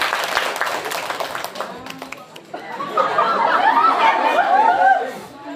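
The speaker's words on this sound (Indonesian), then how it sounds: "Tepuk tangan semuanya." High school students at a legal outreach session clap sharply for a couple of seconds. The clapping then gives way to chuckles and lively chatter that swells across the room.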